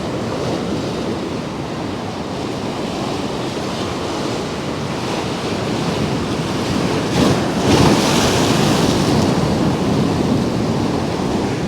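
Strong wind roars over crashing surf on the Paphos seafront, a dense continuous rush that swells louder in the second half, with gusts buffeting the microphone and no voices.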